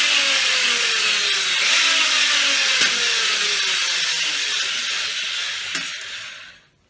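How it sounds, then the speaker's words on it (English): A hand drill spins a hone up and down inside an engine cylinder bore of a 2010 Ford Taurus SHO block being re-bored at home, giving a loud, steady grinding whine with faint pitch sweeps, fading out at the end. "Just keep moving the drill up and down in some pace, so you will get the more even shape of your cylinder wall."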